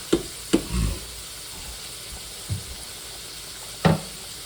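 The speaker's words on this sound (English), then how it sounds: "Stir the noodles, get some of that beef in there, the oil," Noodles with beef being stirred in oil in a pan: a few scattered soft knocks and scrapes of a utensil, with a faint sizzle between them, quiet and close.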